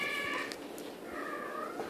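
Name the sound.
cat meowing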